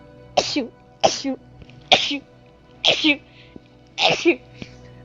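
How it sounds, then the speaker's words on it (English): Sneezing from a person seated indoors tasting soft drinks: five sharp, close bursts roughly a second apart, each a short explosive blast with quiet gaps between. "I have to sneeze."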